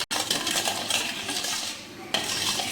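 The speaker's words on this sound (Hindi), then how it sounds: "अब मैं इसमें जो ये रेड फूड कलर है वो मिक्स करूँगी" A spoon clinks and swirls inside a container while red food colouring is mixed into liquid for jam sheeren, a brief close scraping stir with a sharp tap at the start and another knock near the end.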